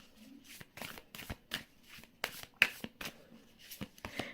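Tarot cards shuffled and drawn from a deck during a reading, a close run of crisp, papery riffles and flicks in short bursts, quiet and alone.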